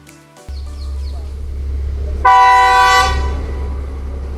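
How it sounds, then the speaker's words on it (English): The blue train near Ella, Sri Lanka, sounds a loud close horn blast for under a second over a deep steady engine rumble, with a brief chime-like tone before the rumble starts. "And there it is, the iconic blue train of Ella."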